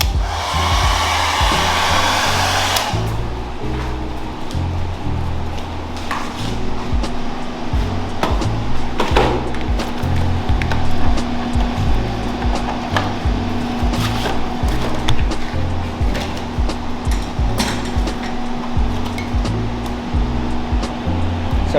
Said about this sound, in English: So I'm using a heat fan here